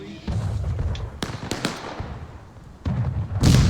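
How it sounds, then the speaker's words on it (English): Cannons boom in a battlefield artillery duel within a video game, with several sharp bursts and cracks at irregular intervals, the loudest near the end. "But cannon fire still continues to pour in here,"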